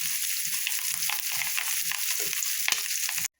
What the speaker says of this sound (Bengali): আর একটু সময় নিয়ে নাড়াচাড়া করে ভেজে নেব, একটু কড়া কড়া করে।